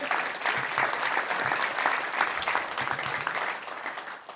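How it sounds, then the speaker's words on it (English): Sustained audience applause at a Little Rock Touchdown Club luncheon, a dense, steady wash of clapping hands lasting throughout and easing slightly toward the end. "So one more time for a big round of applause for all of our sponsors."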